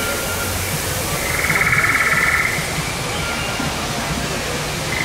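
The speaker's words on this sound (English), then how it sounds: "Dude, look at this waterfall." A broad, steady roar of rushing water from a waterfall along Pandora's Na'vi River Journey boat ride, loud and continuous, with faint voices in the background.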